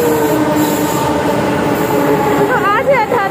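A Delhi Metro train rumbles loudly through Akshardham Metro Station, its wheels squealing and a brief horn sounding near the end, with someone talking over the noise.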